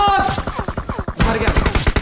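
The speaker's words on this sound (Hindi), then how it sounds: "ऐसे नीचे छुप के बैठे होते हैं लौंडे, धर धर धर गोली चला देते हैं।" Rapid automatic gunfire in the mobile shooter PUBG Mobile, dense bursts of repeated shots fired in quick rhythm, with a short pause and then another loud burst.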